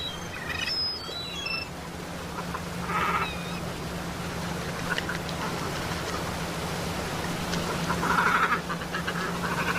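Many water birds feeding in shallow water where receding waters have trapped fish, a dense steady wash of distant calls and splashing with a few quacking and honking notes rising briefly above the background.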